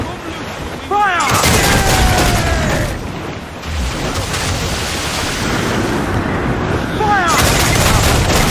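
Ship cannons boom in Assassin's Creed IV Black Flag during a naval chase of a slaver ship, loud broadband blasts rolling over continuous sea and battle noise, with a second volley near the end.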